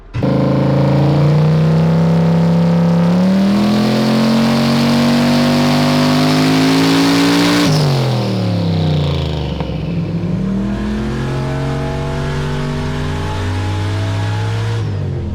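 Turbocharged E85 car engine on Holley EFI, tuned without an intercooler, revving hard: a loud, close harmonic roar climbs steadily for about eight seconds, drops off as the throttle lifts, then builds again, running continuously with no talking.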